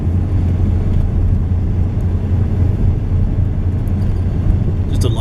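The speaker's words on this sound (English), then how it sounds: "Driving home from a friend's house right now." A car driving home through a snowstorm, a steady low rumble of engine and road noise heard from inside the cabin, loud and unbroken.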